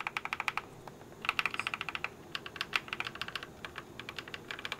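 Rapid typing on an RK96s mechanical keyboard fitted with tactile switches, a close, steady clatter of keystrokes in bursts with brief pauses, no voices.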